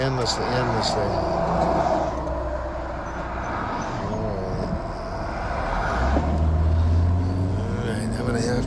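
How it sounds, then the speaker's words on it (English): Sunday road traffic heading from Malibu streams past in a continuous roar of car engines and tyres, with a heavier vehicle rumbling near the end while people talk over it. "it's Sunday, so all these cars are coming endlessly"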